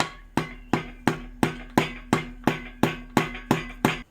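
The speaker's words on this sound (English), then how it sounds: "Take your persuader, give it some tappy taps." Hammer tapping a socket onto an engine crankshaft during assembly of a budget 383 stroker: about eleven sharp metallic taps fall at a steady, even rhythm, loud and close, each ringing briefly.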